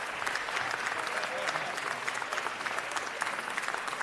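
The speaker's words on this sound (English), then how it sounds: "Give them a round of applause." An audience at a city council meeting applauds steadily and loudly, the dense clapping holding at an even level from start to finish with no break.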